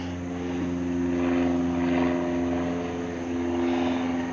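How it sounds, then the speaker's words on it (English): A propeller airplane drones steadily overhead, a continuous engine hum that swells and fades slightly, with no talking. "Airplanes."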